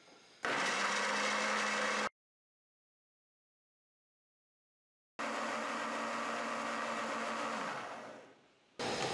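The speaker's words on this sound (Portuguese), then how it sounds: "para facilitar o trabalho do liquidificador." A kitchen blender purees a medium onion cut in coarse chunks with a glass of water, giving two loud whirring runs separated by a few seconds of silence, the second run winding down before a brief restart.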